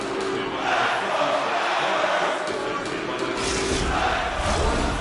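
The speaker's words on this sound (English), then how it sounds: "You can feel the energy in this crowd" Arena crowd roar from the NHL 24 hockey video game during a Detroit Red Wings versus New York Islanders regular-season tie game, a steady loud wash of cheering with no pause for the whole stretch.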